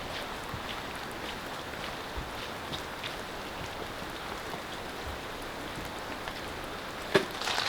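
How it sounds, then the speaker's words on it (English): Steady rain patters on a hot tent at a camp in heavy rain, an even, continuous hiss of drops with no voices and one brief knock near the end. "you guys can hear it's raining again"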